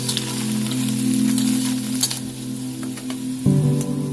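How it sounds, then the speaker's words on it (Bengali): Chopped carrots and peas sizzle steadily in hot oil in a pan while cooking egg pasta, with a constant frying hiss, a few light clinks and scrapes from stirring, and a low hum underneath; no one speaks. "এবার এই মটরশুঁটিগুলো দিয়ে দিতে হবে তেলের মধ্যে এবার একবার ভালো করে নেড়ে নিতে হবে"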